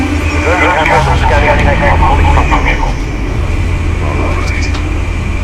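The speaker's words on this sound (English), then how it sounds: "There's the drone." Drone in the video game Batman: The Telltale Series, a loud whirring engine hum running throughout, with a voice talking over it.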